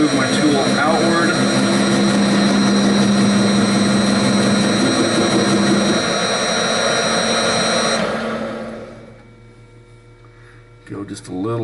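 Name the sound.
tool cutting Duramax AC compressor clutch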